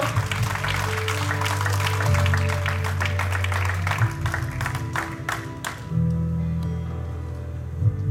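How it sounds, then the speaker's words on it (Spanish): Applause from a congregation at a wedding service in Montgomery, Alabama, a dense wash of many hands clapping steadily under sustained organ-like tones, then thinning out near the end. "aplauso"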